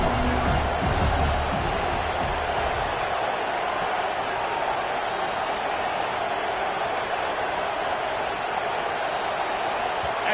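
Steady roar of a stadium crowd in the NCAA 25 college football video game, a loud continuous wash of noise throughout with a brief voice near the start.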